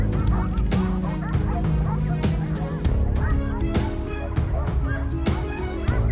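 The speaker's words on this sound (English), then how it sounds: "The dog's barking became louder, an unmistakable signal." Dog barking in the mountains during a wild boar hunt, heard as repeated loud barks and yelps in a dense, continuous burst with no pauses.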